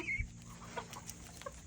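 Heritage chickens on a small North Carolina farm in early September, including Appenzeller, La Flèche and Australorp birds, cluck softly in the morning with scattered short calls over a faint outdoor hum.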